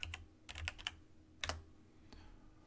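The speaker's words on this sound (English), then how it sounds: "So now I can come in and type another name." A name typed on a computer keyboard, heard as short clusters of crisp, close key clicks with brief pauses between bursts over a quiet background.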